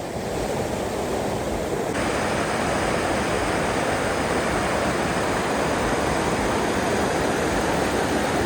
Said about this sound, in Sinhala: මෙන්න තියෙනවා පළවෙනි ඇල්ල.